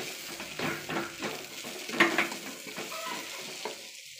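A coriander powder and salt mixture is stirred in a pan for a chicken curry, producing repeated scraping strokes with a soft sizzle and occasional utensil clinks against the pan, close and steady, with no talking.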